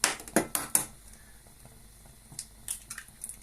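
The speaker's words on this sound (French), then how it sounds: "Vous cassez l'autre œuf." An egg cracks against a glass and drops in, giving a quick burst of sharp clicks and taps at the start, then quieter scattered clinks and soft wet sounds, close and fairly faint, with no talking.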